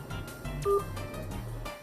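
A single touch-tone keypad press on a telephone line gives a short, clear dual tone over a low, rumbling background hum.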